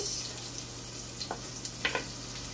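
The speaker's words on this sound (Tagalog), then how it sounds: "Dito sa ating pinagprituhan, ilalagay natin ang ating bawang at" Garlic and onion sizzle in oil left from frying meat, a steady hissing fry with a few faint scrapes or stirs near the end, no one talking.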